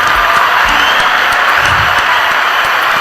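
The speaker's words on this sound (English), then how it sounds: "We give our hand claps for the truth" Audience applause at a spoken-word gathering, a dense, steady wash of hand claps filling the whole stretch at close range with faint crowd noise mixed in.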